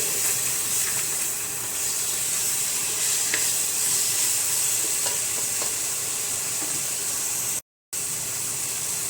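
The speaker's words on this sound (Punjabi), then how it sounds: "ਪਾਸਤਾ ਪਾ ਕੇ ਮਸਾਲੇ ਦੇ ਨਾਲ ਮਿਕਸ ਕਰ ਦਵਾਂਗੇ" Pasta with finely chopped capsicum and masala stirred in a pressure cooker: a steady, close sizzle with scraping stir strokes running throughout, cut by a brief dropout near the end.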